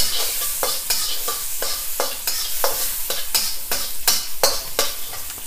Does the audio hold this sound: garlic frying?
yes